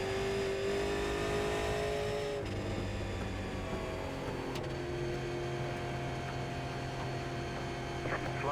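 Super Late Model race car engine at Bristol Motor Speedway in the iRacing video game, a steady, close, droning whine that shifts pitch as the car revs and shifts, with other cars faintly audible around it.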